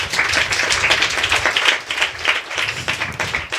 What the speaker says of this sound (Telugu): మీకు ఇష్టమైతే చప్పట్లు కొట్టండి ఈ మాటను.